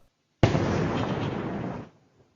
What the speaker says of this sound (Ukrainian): цей звук дуже нагадує виходи із С-300 або С-400